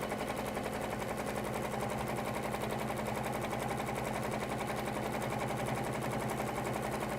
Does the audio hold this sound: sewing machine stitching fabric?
yes